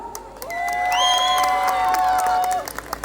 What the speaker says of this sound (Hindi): जिनको भी हो चुकी एक बार उनके शोर में सुन लो, उनकी तालियों की आवाज में सुन लो एक बार